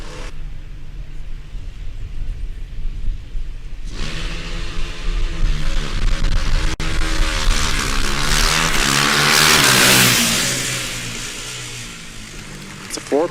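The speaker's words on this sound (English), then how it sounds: "Yeah, we know the sound of the single cylinder. This was their championship car back in 2010. And we will hear the rev limiter in a couple of seconds." Single-cylinder Formula Student race car, a 2010 championship car, revving loudly and rising in pitch over several seconds before bouncing off the rev limiter, with a whooshing pass and fading engine note.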